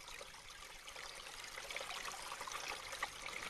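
Forest brook in the Boubín primeval forest, trickling steadily with a soft, even babble of running water, close and quiet, with no voices.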